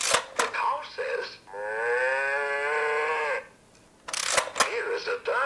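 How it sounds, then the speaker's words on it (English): A cow moos once, a long drawn-out lowing call of about two seconds, with a voice just before and after it. "The cow says."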